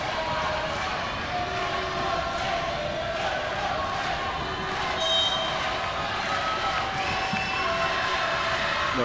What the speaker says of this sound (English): The crowd here cheering for the Canes.